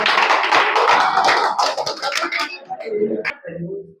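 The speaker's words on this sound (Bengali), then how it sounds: "জোরসে হয়ে যাক একবার হাততালি।" A group of madrasa students bursts into loud, dense clapping that thins out over a few seconds into scattered claps, with voices mixed in toward the end.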